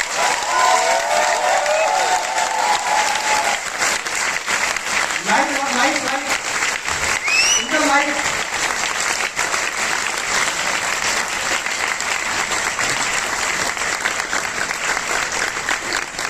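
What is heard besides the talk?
audience applause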